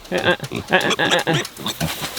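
Pigs herded on pasture grunt and squeal in short bursts, close and fairly loud, with a person calling to them in a repeated rhythmic chant.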